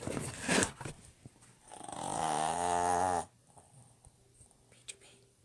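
A small dog snores in one sustained, fairly loud rasping breath, with fainter snuffly breathing and quiet room noise before and after.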